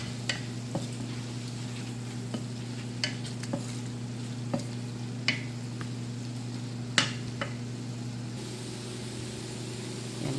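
Beef cubes frying in a pan with a steady low hum of sizzling under a constant background drone, punctuated by occasional clinks and scrapes of stirring, fairly quiet throughout.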